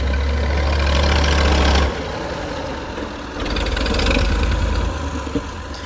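A tractor engine idles and revs at a house construction site in a village, loud and close, with a deep throbbing drone that drops briefly before rising again.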